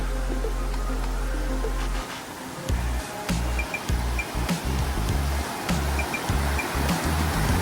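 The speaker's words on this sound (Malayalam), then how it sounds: "പാറക്കെട്ടിന്റെ നടുവിലൂട്ടിയാണ് ഈ വെള്ളം ഇങ്ങനെ വരുന്നത്" Water of the Urulikkund waterfall in Kannur rushes between rocks as a steady, broadband roar, close and continuous, with a few faint knocks and no talking.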